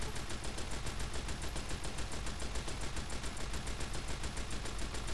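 Rapid automatic gunfire in the video game Fallout New Vegas, a dense unbroken stream of shots across the whole stretch, loud and steady.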